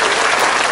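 A short, loud burst of applause, dense clapping from many hands filling the moment at full strength without any voices.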